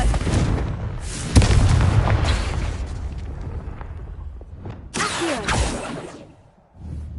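The Confringo fire spell goes off in Hogwarts Legacy on PS5. A loud booming blast rumbles and fades over a few seconds, then a second sharp burst follows with crackling debris. A final thud comes as the rumble dies away.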